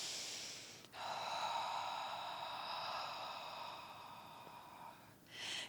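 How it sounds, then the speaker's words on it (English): A long, slow inhale and exhale of deep breathing during a mobility exercise, close and soft, followed by another breath drawn in at the end. "And remember this nice round of breathing in and out."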